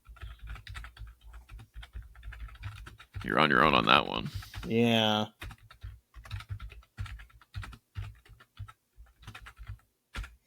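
Rapid, irregular clicking of typing on a computer keyboard continues for several seconds, with a short burst of nearby talk partway through before the key presses resume.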